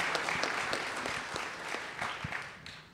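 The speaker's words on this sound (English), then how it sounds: "So let's give a round of applause to our speakers." A panel audience at a startup event gives a faint, distant round of applause to the speakers, scattered claps fading gradually.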